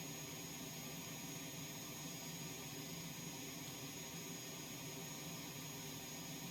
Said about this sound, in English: APU's running.